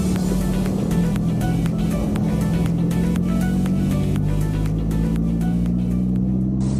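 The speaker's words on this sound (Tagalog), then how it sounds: "dito sa kubo ni Tatay David, makakasalubong natin yung kulay pulang sasakyan dyan" Motor vehicle engine droning steadily on a rural road in Quezon, a red vehicle approaching, loud and close with a continuous hum and rhythmic clicking ticks throughout.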